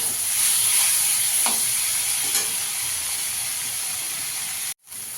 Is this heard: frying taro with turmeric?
yes